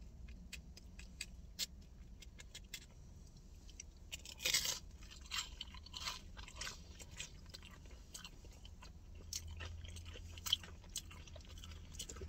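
Someone eats a Taco Bell cheesy chicken crispanada with spicy ranch dip, making close, quiet crunchy bites and chewing, with scattered clicks and a louder rustle partway through, inside a car.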